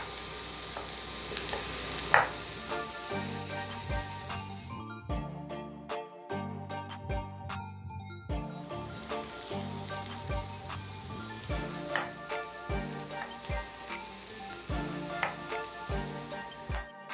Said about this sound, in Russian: пока морковь и лук обжариваются